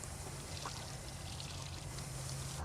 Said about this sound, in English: I pull my lever up and bleed the air out of the hot water heater itself, or the water heater